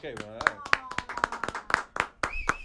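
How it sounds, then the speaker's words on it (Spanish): Rhythmic clapping from people in a studio gathering on a Dominican entertainment show, sharp individual claps landing over excited voices that keep talking and calling out throughout. "Aplauso, por favor, aplauso."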